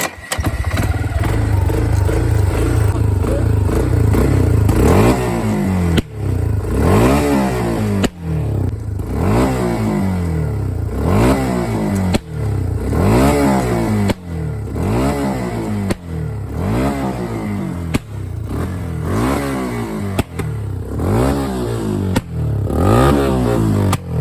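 A quad ATV engine revs again and again in sharp rising-and-falling bursts, roughly a dozen throttle blips in a steady rhythm, each dropping back with popping backfire cracks, loud and close, with no talking.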